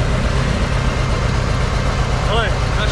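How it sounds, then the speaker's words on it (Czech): A motorcycle engine idles close by on a street in Amalfi, a steady low rumble throughout with a brief voice near the end. "je tady motorka"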